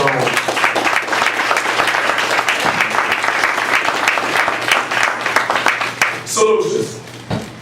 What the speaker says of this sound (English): That needs to be applauded on its own.